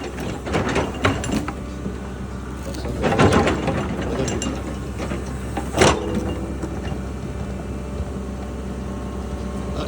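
An excavator works to pull a tree root from the ground, giving off grinding and creaking mechanical strain with several sharper cracking bursts, at moderate level and without talk.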